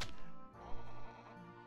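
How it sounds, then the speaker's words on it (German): Goats bleat in the video game Trine 3, a pair of wavering calls heard close and clear with game ambience behind them, followed by a sharp sound at the end. "Ziegen."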